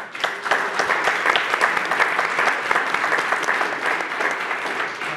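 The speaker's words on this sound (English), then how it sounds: "a round of applause" An audience at a panel talk on artificial intelligence applauds, a steady dense wash of many hands clapping at moderate volume that holds for several seconds with no one speaking.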